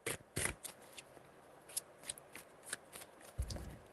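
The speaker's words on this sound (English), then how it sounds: "Three shuffles." Tarot cards being shuffled by hand, a quiet series of crisp riffling flicks and taps at an uneven rhythm with no voices.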